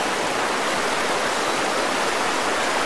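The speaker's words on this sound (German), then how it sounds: "Man hört schon ganz viel Wasser." Rushing water from a stream or waterfall in a video game, a steady, loud, continuous hiss of churning flow with no pauses or voices.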